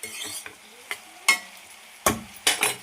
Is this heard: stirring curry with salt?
yes